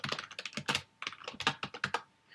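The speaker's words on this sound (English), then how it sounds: "Now you notice that I'm typing a lot" Rapid typing on a computer keyboard, a dense, uneven run of close, crisp key clicks with short pauses, no voices.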